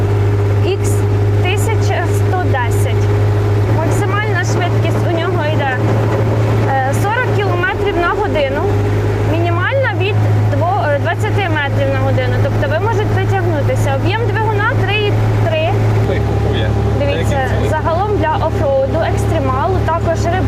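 A Kubota RTV four-wheel-drive buggy drives with a steady, loud engine drone that shifts pitch midway and again near the end, while people talk throughout.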